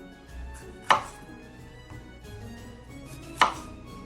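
A knife cutting orange slices on a board for Glühwein, two sharp chopping knocks about two and a half seconds apart, close and loud, with quiet pauses between and no speech.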